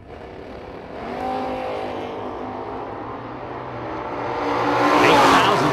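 Drag racing cars, a wheelie wagon and a Camaro, roar down the strip at a drag racing event, a loud sustained engine howl that builds, holds and swells again, heard from trackside.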